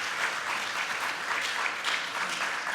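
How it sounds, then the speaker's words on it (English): Audience at a conference applauding the guests, a thick continuous clatter of many hands, fairly loud and sustained throughout with slight swells. "A round of applause for of course for the guests."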